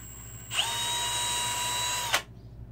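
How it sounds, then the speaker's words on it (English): A power drill bores a hole in a tub, a single high-pitched whining run of about a second and a half that starts abruptly and cuts off, loud and close with no talking. "and I'm going to drill a hole."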